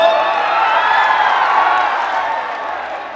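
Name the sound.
audience clapping for Ravi Kishan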